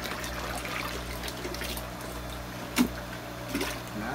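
Nutrient solution of nitrate and magnesium sulfate is poured into water, a soft trickling dribble over a low steady hum, with a couple of brief splashes.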